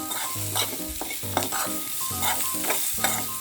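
A pan of banana snack sizzles steadily as fresh grated coconut and salt are stirred in, with rhythmic scraping strokes of a spoon roughly every half second, close and alone with no voices.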